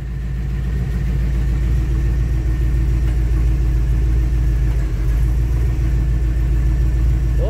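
A truck fitted with a 14-bolt rear steer axle idles steadily nearby, a deep continuous engine rumble holding even throughout with no voices.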